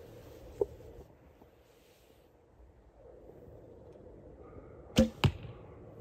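Arrows loosed from a Dorkas longbow made by Andy Michaelis: a soft release thump early on, then two sharp, close impacts about a quarter second apart near the end, with quiet outdoor ambience between them.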